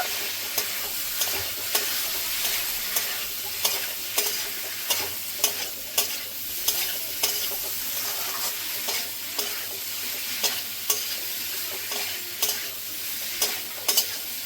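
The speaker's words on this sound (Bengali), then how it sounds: "সোয়াবিন, আলু, পেঁপে ভেজে রেখেছিলাম, একসঙ্গে দিয়ে দেবো। মশলার সঙ্গে মিশিয়ে নেব।" Fried soybean, potato and papaya being mixed into sizzling spices, a steady loud hiss of frying with regular spoon taps and scrapes against the pan roughly every second, heard close with nobody talking.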